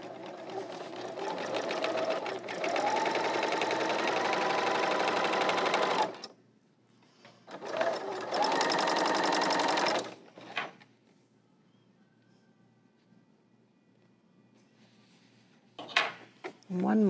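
An L890 serger runs fast and loud as it stitches fabric in two sustained bursts of about six and two seconds, with a short quiet pause and faint handling noises after the second.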